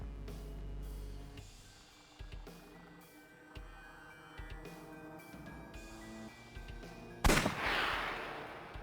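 In AI: The Somnium Files, a single sharp gunshot cracks out loudly near the end, after a quiet stretch of soft, faint background sound.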